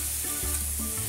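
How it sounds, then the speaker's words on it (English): Caribbean jerk chicken pieces sizzle in a hot oiled pan, a loud continuous crackling hiss with brief low thumps as pieces are laid in, no voices present. "we'll begin just kind of lining our chicken into the pan. You kind of want to hear that sizzle"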